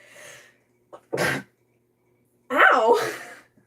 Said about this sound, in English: Oh, I have to sneeze.